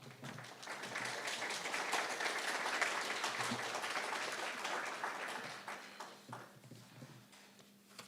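A symposium audience applauding a speaker: a fairly faint, even spread of clapping that builds, holds, then thins out toward the end.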